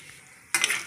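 Peanuts for dabeli masala hit a hot pan with dabeli spice and chilli, setting off a sudden, loud, bright sizzle halfway through after a quiet start, with no talking.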